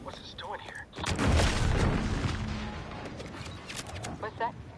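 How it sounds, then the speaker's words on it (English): A deep boom erupts in the video game Outer Worlds 2, a heavy low blast that swells and rumbles for a couple of seconds before fading, with in-game voices talking before and after. "What's that? An explosion?"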